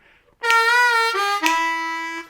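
A blues harmonica lick on an A harmonica, two sustained reedy phrases with a slide between pitches, played solo and close with no talking.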